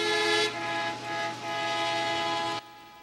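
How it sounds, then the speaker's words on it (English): Hazardous-material warning alarm sounding during a mock disaster fire drill at Fort Smith Regional Airport, a steady, loud horn-like tone that dips briefly twice and then cuts off abruptly, with no talking. "That sound is warning firefighters that a hazardous material has been detected."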